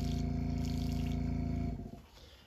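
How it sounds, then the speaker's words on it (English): An airbrush holds a steady mechanical hiss with a low bubbling buzz as paint and alcohol bubble back in its cup, then cuts off abruptly near the end, leaving a faint fading gurgle. "I'm gonna hold a needle, let it bubble a little bit just to mix what I've got in there"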